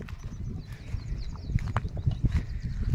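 Bullocks plod across a field while pulling a plough in traditional Indian farming, with soft irregular hoof thuds on earth and faint outdoor rustle, near and moderately quiet.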